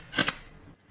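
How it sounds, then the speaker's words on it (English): Automatic pistol slide racked as a classic movie sound effect: two quick sharp metallic clicks in rapid succession, close and crisp, then fading to quiet. "the sound of an automatic pistol whose slide is being racked"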